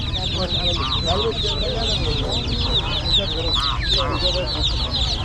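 Chickens cluck steadily at a weekly poultry and bird market in Kuchesfahan, Rasht, Gilan, northern Iran, with layered clucks from many birds amid busy market noise, and people talking throughout.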